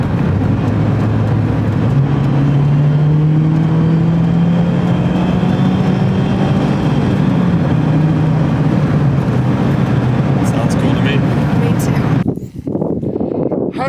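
A Mazda Miata ND with a Gibson Quiet Series axle-back exhaust drives with the convertible top up, giving a soft, steady engine drone that rises and eases in pitch under constant wind and road noise, then dips briefly near the end.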